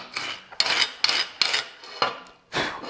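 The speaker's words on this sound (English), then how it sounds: "Like, just scraping a file on it." A metal file rasps over a flux core weld bead to scrape off slag, giving several sharp, close strokes in an uneven rhythm with brief pauses between them.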